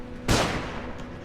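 Flashbang grenade going off in the game Underrail, a single sharp, loud blast that hits suddenly and trails into a short fading rumble.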